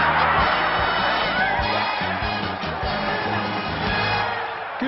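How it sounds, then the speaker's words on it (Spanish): A crowd of cartoon football fans at a stadium cheers and applauds for the Bikini Bottom super band, a steady, dense roar of voices with scattered whoops that carries through the whole stretch without letting up. "Muy bien, fanáticos del fútbol, aplaudan a la super banda de Fondo de Bikini."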